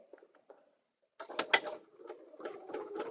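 A sewing machine stitches a seam a quarter inch in on a vinyl zipper bag. Quiet mechanical whirring and clicking comes in short bursts after a pause, close and fairly soft.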